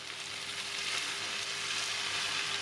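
Rice vermicelli fries in a pan without soy sauce, giving a steady, close, even sizzle that continues throughout with no talking.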